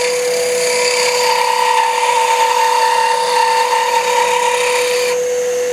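A wood lathe spins fast while a crochet hook is turned, producing a loud, steady high whine with a continuous scraping cut that stays even for several seconds, then drops slightly in tone near the end.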